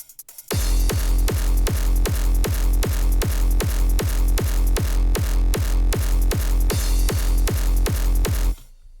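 A fast, steady stream of dry, unprocessed electronic hardstyle drum hits plays alone at an even rhythm for about eight seconds, then stops abruptly.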